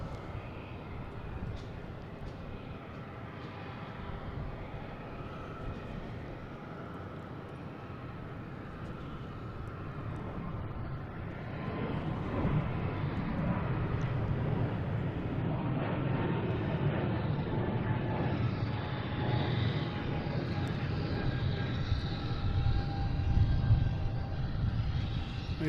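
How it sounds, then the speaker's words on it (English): Delta airliner taking off at Boston Logan International Airport: a steady broadband jet roar at a distance that grows louder about halfway through and holds, with no talking. "So we have a Delta taking off."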